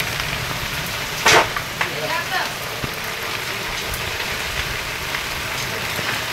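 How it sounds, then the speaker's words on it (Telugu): Steady rain hisses over and through a house wrecked by unseasonal rain, falling both outside and into the rooms, with one brief louder burst of splashing partway through and a constant even wash throughout. "బయట ఎట్టయితే వాన ఉందో ఇంట్లో కూడా అట్లాగే వాన ఉంది."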